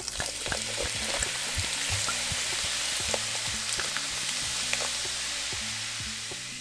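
Wine hitting a hot pan of Dungeness crab and shrimp scampi gives a steady, close sizzle and bubbling. Soft clinks and scrapes of stirring tick through it, with no talking.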